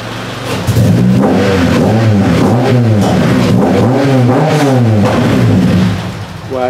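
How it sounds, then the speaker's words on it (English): A Honda EP3 engine revved hard by the throttle, loud and close, rising and falling in several sweeping surges before settling back toward idle at the end. "If I give it some throttle, it's probably gonna die."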